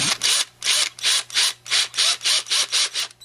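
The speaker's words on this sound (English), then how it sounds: "I should get a smaller drill, but this is what I'm using to put them together" A power drill drives screws into landing skids in about ten even, rapid ratcheting bursts, loud and close with short pauses between them and a low steady hum underneath.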